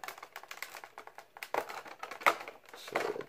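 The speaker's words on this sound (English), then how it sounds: "just peeling the tape out like this" Tape peeled by hand off the plastic packaging of a boxed collectible statue, a close, quiet series of crackling, ticking tears and small rips in short bursts.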